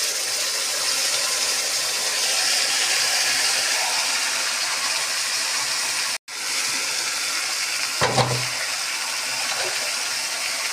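Fish frying in a pan for a curry, a broad steady hiss and sizzle that fills the whole stretch, close and fairly loud, with a brief cutout partway through and a short knock afterwards.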